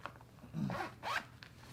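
A zipper on the pouch of a fishing backpack is pulled open close by, making two or three quick, raspy zips that stand alone in a quiet room.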